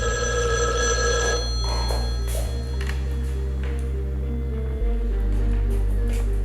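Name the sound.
telephone ringing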